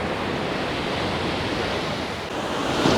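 Steady surf washes onto Seminyak beach in Bali, a continuous broad roar of breaking waves with some wind, loud and unbroken with no voices.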